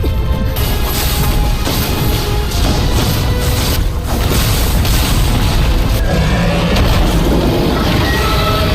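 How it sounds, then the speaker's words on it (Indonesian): A heavy explosive blast from an animated dragon assault slams into a city wall, a dense continuous roar of booming impacts and crashing debris that stays loud throughout. "Dengan dentuman besar, serangan itu menghantam tembok kota, menciptakan retakan besar di sekelilingnya."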